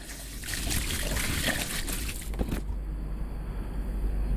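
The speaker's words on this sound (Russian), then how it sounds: "я заливаю его чистой водой до выбранного гидромодуля" Clean water is poured over rice in a fermentation vessel for soju-style koji distillate, a steady close trickling wash that runs for a few seconds and then drops to a quieter hiss.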